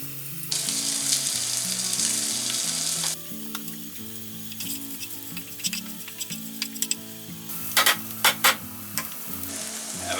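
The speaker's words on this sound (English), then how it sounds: "Okay, so our bacon is crisping up nicely. Just going to put in our garlic." Bacon crisping in a pan with garlic added gives a steady, close sizzle and crackle throughout, briefly easing then rising again with sharp spattering pops near the end, over low sustained tones.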